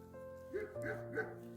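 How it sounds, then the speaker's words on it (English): A few short, yappy dog barks in a quick sequence, faint and somewhat distant over a steady low background hum. "That's my dog, Sage."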